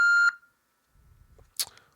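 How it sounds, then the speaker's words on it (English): A single loud electronic voicemail beep tone from a Google Voice number, steady and clear for about a third of a second, followed by near silence and faint low rumbling. "Please leave a message after the tone."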